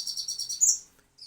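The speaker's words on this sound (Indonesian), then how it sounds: "burung gagak sama cikunya" Crow and ciku birds chirping in quick, repeated bursts of high tweets, close and fairly loud, then breaking off into a brief pause before another short call; no talk.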